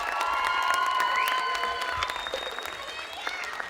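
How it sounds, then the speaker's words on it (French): An audience applauds a student performance show at a cégep in Terrebonne, with sustained loud clapping, scattered cheers and shrill whistles rising over the crowd, tapering slightly toward the end. "Est-ce qu'on peut les applaudir encore une autre fois?"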